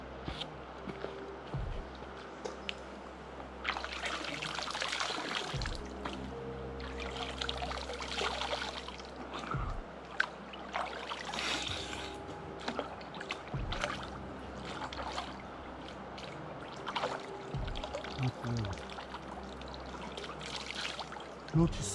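Water trickles and pours in a small stream along a hiking route, a soft, close burble with scattered splashes and knocks, and someone talks quietly over it.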